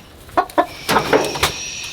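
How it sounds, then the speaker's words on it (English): A rooster injured in a nighttime attack gives a few short clucks and soft calls, close by and fairly loud, spaced irregularly over a quiet background. "The rooster, this is one that got attacked."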